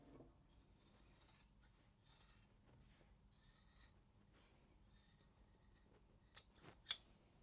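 Scissors snipping through fabric while cutting out a simple T-shape kimono coat: soft, sparse rubbing snips at close range, ending in two sharper, louder cuts, with no talking.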